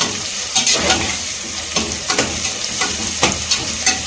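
Onions sauté in oil for a basmati chicken biryani, a continuous loud sizzle broken by repeated scraping stirs of a spoon against the pan at a loose, regular pace.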